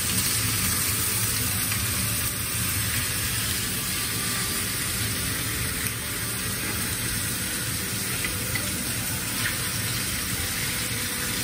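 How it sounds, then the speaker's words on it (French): Filet mignon searing in a pan gives a continuous hissing sizzle at moderate level, steady and unbroken from start to finish without talk. "je vais tourner ma viande. On en est à 10 minutes de cuisson."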